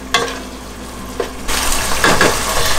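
Onion, ginger and garlic sautéing in a pan start with a quiet background and a few sharp stirring clicks, then swell into a dense, close sizzle with scraping strokes.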